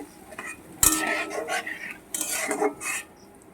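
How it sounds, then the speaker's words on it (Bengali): Masala paste being fried and stirred in a pan, with a spoon scraping and clinking against the metal in close, irregular bursts over a low sizzle. "ভালো করে ভাজতে হবে মশলাটাকে"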